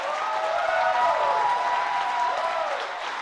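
Audience applause for Dave Calendine, organist for the Detroit Tigers and Detroit Red Wings, at an indoor opening-night event: a steady, dense wash of clapping that holds evenly for the whole stretch and tapers slightly at the end.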